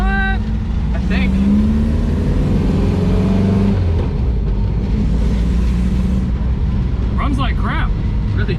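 A 1969 Volkswagen Baja Bug engine, running poorly on old gasoline, idles roughly with a steady low rumble, close up, while people talk over it.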